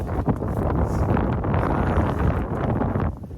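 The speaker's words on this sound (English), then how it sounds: "I feel like the wind has been blowing non-stop for the last like 4-5 days" Strong, constant wind buffets the microphone on a hiking trail near Erwin, Tennessee, producing a loud, roaring rumble that swells and eases slightly but never lets up.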